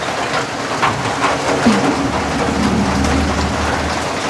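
Steady rain falls loud and close in an unbroken hiss, with a low rumbling undertone and no voices.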